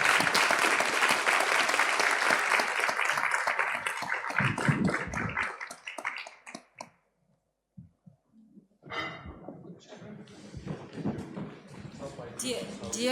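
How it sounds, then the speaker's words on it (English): Loud audience applause for forum panelists, dense clapping for several seconds that fades out, followed by talking and room noise. "we have to give a big and loud applause for all the panelists"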